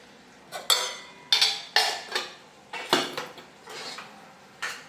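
Eggs being stirred in a pan with ginger-garlic paste, a metal spoon scraping and clinking against the pan in about six short, distinct bursts, close and fairly loud, with no talking.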